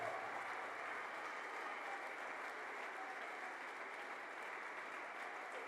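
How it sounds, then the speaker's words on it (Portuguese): A church congregation at a sermon in Angola claps together in steady, dense applause that holds at an even level for the full stretch, with no pauses or swells. "Exalta o Cristo com uma salva de palmas."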